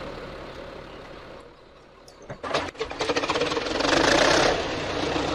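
Tractor engine in Farming Simulator 17, a John Deere, rumbling steadily, then revving and rising in loudness after a couple of seconds with a brief clatter, running on continuously and close.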